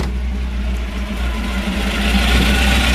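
A 1955 Chevrolet Bel Air with a gear drive and dual exhaust idles steadily, a deep continuous rumble with a faint whine on top, holding even and close for the whole stretch.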